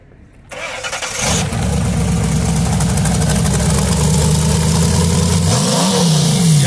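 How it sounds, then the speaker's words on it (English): At an outdoor car show, a car engine cranks and catches after a brief quiet moment, then runs at a loud, close, rumbling idle and climbs in a short rev near the end. "give me a couple revs."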